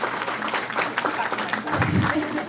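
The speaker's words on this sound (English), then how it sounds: "Let's give them a big round of applause." An audience at a San Diego expert presentation event gives a round of applause, steady clapping at moderate volume with talking mixed in underneath.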